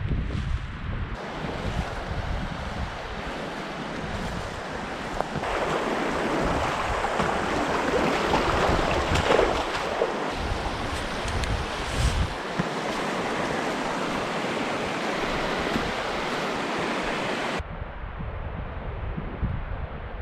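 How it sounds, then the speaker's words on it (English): Strong wind blowing outdoors in the Alaskan wilderness, a constant roaring rush that buffets the microphone and swells louder midway before cutting off abruptly near the end; no speech. "The wind's off my right shoulder. They're just swirling."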